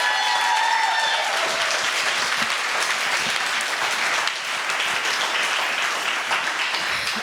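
An audience applauds for the poet Danez Smith at a reading event, a dense, sustained round of clapping filling the room at steady volume, with no voices over it.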